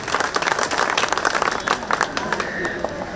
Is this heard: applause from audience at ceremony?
yes